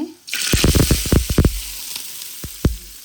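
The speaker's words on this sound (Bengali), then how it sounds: "ভাজি করি লই ভর্তার লাগলি" Small shrimp and chopped onion frying together in a pan, a steady loud sizzle with a run of sharp stirring clatters and scrapes near the start and a couple more later on.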